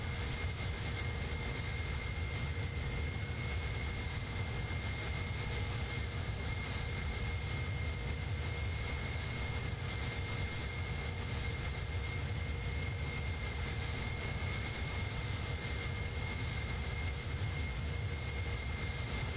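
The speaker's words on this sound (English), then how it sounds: "We are cruising in the iniBuilds A310." An iniBuilds A310 airliner cruising in Microsoft Flight Simulator: a steady, even cabin engine drone with a faint high whine, continuous and unchanging, with no voices.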